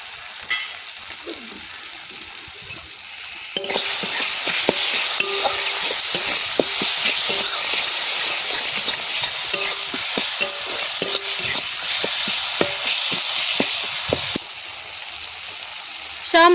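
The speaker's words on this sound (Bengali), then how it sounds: "সব মশলা খুব ভালো করে কষাই করে নিয়েছি, মশলা দিয়ে তেল ছেড়ে দিয়েছে।" Spice masala sizzles loudly in hot oil while a spoon stirs and scrapes the pan in steady strokes. The frying grows louder partway through and then settles. The cooking is for a curry of live stinging catfish with potatoes.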